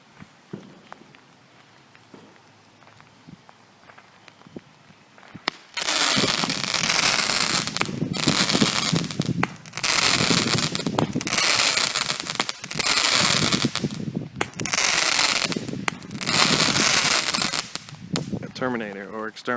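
A 24K 8-shot firework cake fires a series of loud, evenly spaced bursts after a quiet start, each shot a sharp crackling blast with brief gaps between.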